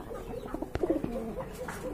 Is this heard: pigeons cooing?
yes